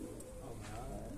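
Pigeons cooing in a home courtyard during pigeon flying in Azerbaijan, a steady low murmur of coos under faint background voices.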